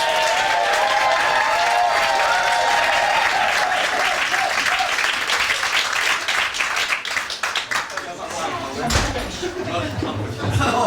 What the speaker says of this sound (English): I'd like to give a big round of applause for Les.